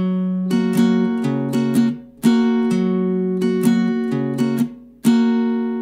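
Acoustic guitar strummed slowly in a Mexican corrido-style pattern, with clear ringing chord strokes separated by short muted gaps, played close and alone with no talking.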